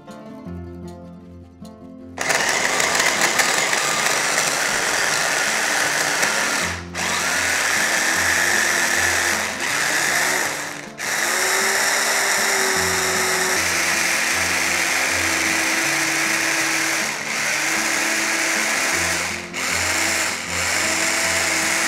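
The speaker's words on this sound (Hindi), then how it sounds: "अब मैं इसको ग्राइंड कर लेती हूँ।" An electric kitchen mixer grinder blends chopped pieces with water in a loud, continuous motor whir that cuts out in several brief pauses.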